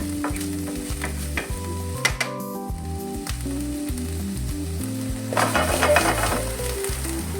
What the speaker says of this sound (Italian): Intanto che la soia sfrigola